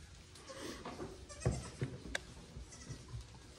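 Goats bleat in short, scattered calls amid a busy, rustling barn background, with a few sharper cries standing out close by.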